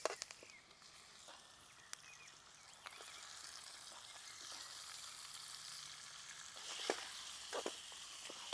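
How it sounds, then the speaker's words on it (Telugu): Whole spices and curry leaves temper in hot oil for a rural-style coriander chicken fry, crackling and sizzling quietly with scattered sharp pops and spits that grow busier toward the end. "ఇప్పుడు వీటిని తాలింపు వేసుకుందాం రండి."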